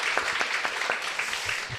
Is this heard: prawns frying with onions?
no